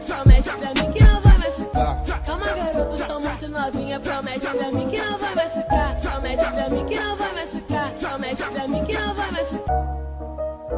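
A phone ringtone plays a Portuguese-language pop song with sung vocals and a driving beat. It is loud and continuous, then stops abruptly near the end.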